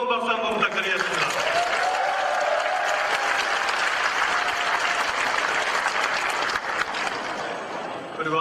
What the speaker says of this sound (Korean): 우리 고모님들께 뜨거운 박수 한번 부탁드리겠습니다